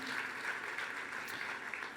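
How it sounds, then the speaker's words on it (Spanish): Church congregation clapping in praise during a revival service, dense steady applause from many hands, fairly faint and continuous throughout. "Fuerte, fuerte ese aplauso de alabanza para el Señor."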